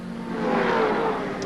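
Nissan and Holden Commodore touring race cars at Phillip Island in the 1990 ATCC, an engine roar swelling and fading as a car passes, brief and moderately loud.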